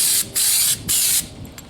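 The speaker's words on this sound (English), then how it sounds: "Because of the temperature, I'm going to put some lighter coats on." Bedliner coating goes on in light coats inside a Ford Maverick pickup bed: three loud, close bursts of spray hiss, each about a third to half a second long, separated by short pauses, with a softer trailing hiss at the end.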